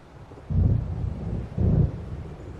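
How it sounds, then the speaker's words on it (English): Distant thunder from an approaching storm in the video game Alan Wake rolls in two heavy, low rumbles about a second apart, with no voices. "It seems there's a storm coming."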